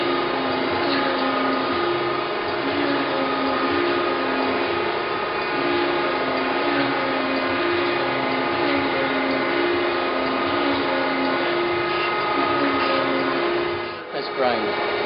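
An Okamoto ACC-1224DX automatic surface grinder from 1993 grinds a part with a steady, loud, droning whine that runs continuously and dips briefly near the end.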